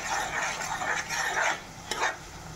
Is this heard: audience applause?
no